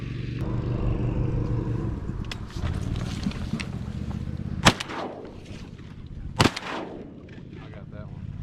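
Two loud, sharp shotgun blasts go off about two seconds apart during a public-land duck hunt from a boat, over steady wind and engine rumble outdoors.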